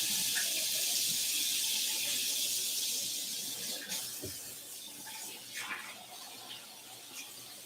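A tap runs steadily with a hissing rush of water, fading slightly, with a few faint knocks and clinks near the end.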